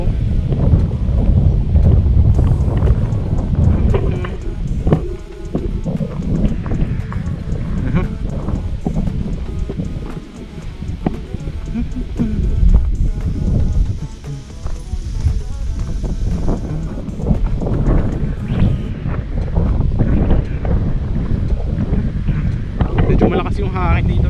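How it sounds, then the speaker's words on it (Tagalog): Strong wind outdoors in Tagaytay buffets the microphone in a loud, continuous rumbling roar that surges and dips throughout, with a person talking underneath. "Yung hangin dito guys, lakas lalo dito pagkagabi, malamig"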